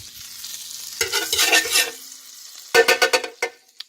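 Butter melting in a frying pan while breakfast eggs are prepared: bursts of close, crackling sizzle and scraping in two clusters, with quiet gaps between, and no voices.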